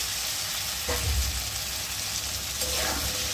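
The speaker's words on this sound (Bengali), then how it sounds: "এই সময় আমি এর মধ্যে দিয়ে দেবো ভেজে রাখা আলু আর পটল" Fried potatoes and pointed gourd drop into a sizzling, oil-separated spice paste for Bengali fish curry, giving a steady close frying hiss with two brief bursts of louder sizzle as pieces land and are stirred.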